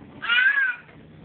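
A person imitates a cat's meow, a single short high-pitched mew, fairly loud against quiet background.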